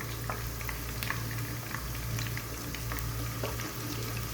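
Fenugreek and mustard seeds fry in very hot oil, a dense continuous bubbling sizzle with small crackles and pops, close and fairly quiet, with no talking.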